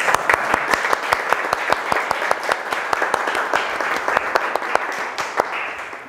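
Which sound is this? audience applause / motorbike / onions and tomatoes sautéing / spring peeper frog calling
audience applause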